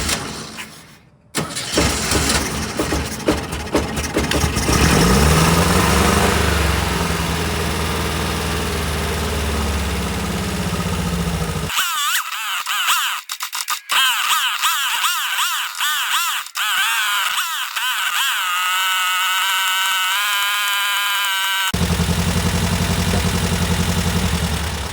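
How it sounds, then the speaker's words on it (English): A 1967 VW Type 3 Squareback engine cranks and catches, then keeps running with a steady, close idle for a long stretch, changing tone partway through, with no talking over it. "the engine starts right up"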